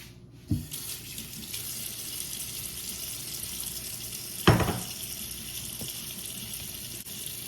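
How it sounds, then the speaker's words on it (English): Tap water runs steadily into a sink while cubed meat is rinsed for a one-pot soup, with a couple of brief clunks of handling over the continuous close splashing flow. "I'm gonna rinse them and put them in here"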